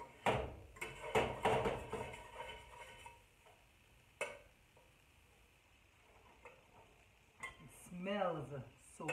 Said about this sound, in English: And then you break it up, right? Use your spatula.